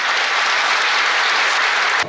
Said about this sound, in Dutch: Dames en heren, een hartelijk applaus voor 6